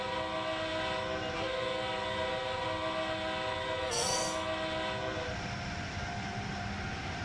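Amtrak Acela Express high-speed train in Train Sim World 3, a loud steady rumbling cab drone with layered tonal hum, broken briefly midway by a short, bright horn blast before the running noise carries on.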